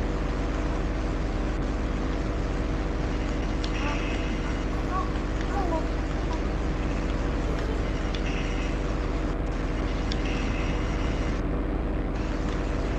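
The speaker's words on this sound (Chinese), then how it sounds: "啊，战斗机来了" A fighter jet in a first-person prison-escape heist video game makes a steady, loud, droning roar that runs unbroken for the whole stretch, with faint game noises on top.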